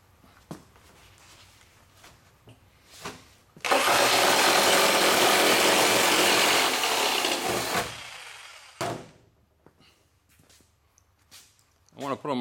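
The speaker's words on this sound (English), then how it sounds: "Let's just see if this jigsaw works." Jigsaw cutting sheet metal during floor pan repair on a 1976 Trans Am, a loud sustained buzzing cut of about four seconds between softer handling noises and brief clatter.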